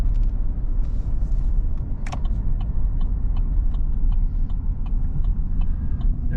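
A 1966 Chevy rolls up with a low, steady road rumble from inside the moving car, broken by scattered light rattles and knocks.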